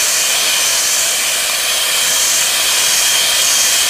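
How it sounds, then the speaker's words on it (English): A 7-minute meringue being beaten over a double boiler gives a loud, steady, unbroken hissing whir that holds level throughout. "7-minute meringue is it takes about 7 minutes of beating"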